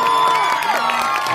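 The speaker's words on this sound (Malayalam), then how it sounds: "നീരജിന് നല്ലൊരു കയ്യടി കൊടുക്കുക എല്ലാവരും" An audience at a TTFAC annual day event in Anushaktinagar cheers and claps for a performer named Neeraj, a brief burst of loud crowd whoops and shouts.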